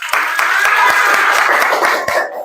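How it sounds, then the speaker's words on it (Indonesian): Classroom applause after a group is scored during a teacher's performance exam in Indonesia: a short burst of scattered hand clapping with distinct claps, steady for about two seconds and then fading, with some voices mixed in. "Tepuk tangan."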